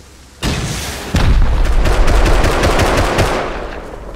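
Sustained automatic gunfire at a door in the video game Rust, a loud, dense rapid burst that sets in abruptly, intensifies, then tapers slightly, with no talk over it.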